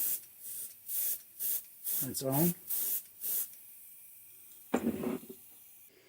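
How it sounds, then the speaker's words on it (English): Short spray-paint bursts coat a fishing lure in a threadfin shad pattern: about six quick, evenly spaced hisses up close, followed by a brief pause, a few spoken words and one last short burst. "I'm just going to spray a little bit on top here"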